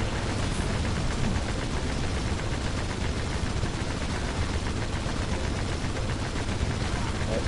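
Continuous gunfire rattles in Red Faction II, a dense, loud, unbroken stream of rapid shots blending with battle noise for the whole stretch.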